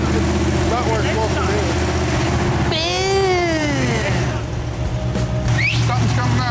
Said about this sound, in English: hearing the carburetors open up and the engine run so good